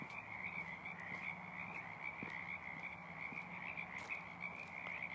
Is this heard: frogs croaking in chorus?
yes